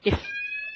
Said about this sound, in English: that's our phone alarm